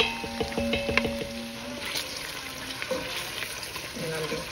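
Stew for eating with yam or kenke simmers in a pot on the stove, giving a steady soft sizzle and bubble with a few spoon clinks and light pot knocks near the start, fairly close and alone.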